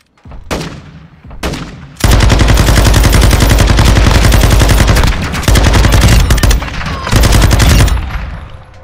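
A 7.62 rifle fires in a video game: two single shots, then a long loud run of rapid, closely spaced gunshots with short breaks, close and dominant with no talking.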